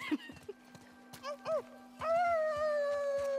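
A game character in The Last of Us Part 2 imitates a wolf howl with the voice, a long sustained rising-then-falling wail held for over a second after brief talk, with a steady low hum underneath.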